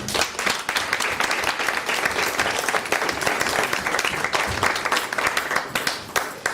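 A church congregation applauding the Lord, sustained clapping from a crowd with individual sharp claps standing out, moderately loud and continuous throughout.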